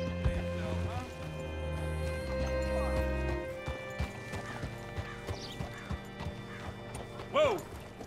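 Horse hooves in the Red Dead Redemption 2 video game clop in scattered, slowing steps after a steady rumble, and a sharp whinny rings out near the end, with voices nearby.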